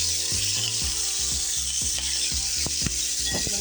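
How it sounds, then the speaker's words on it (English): Shrimp frying in a pan for a shrimp and scallop dish, a loud continuous sizzle close up with a rhythmic mechanical whirring pulsing underneath. "now we put the shrimp first. We're gonna let them become a little bit pink"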